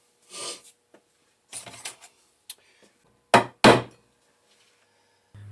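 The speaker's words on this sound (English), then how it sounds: "I'm going to actually take a hammer and drive them in to the mark that I just made" Several sharp hammer blows drive pieces into wood, a few lighter taps followed by two loud, close thuds, with pauses between.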